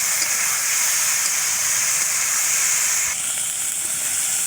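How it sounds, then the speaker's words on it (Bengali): Food sizzles hard in a hot pan while being sautéed for a fish and eggplant curry, a loud steady hiss with a slight drop partway through and no voices. "এখন হচ্ছে আমি একটু কষিয়ে নেব।"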